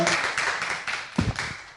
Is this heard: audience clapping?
yes